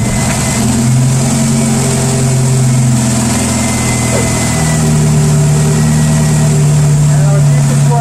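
A car engine idles while running on only two cylinders, making a steady, close, low droning hum with a rough, uneven undertone throughout.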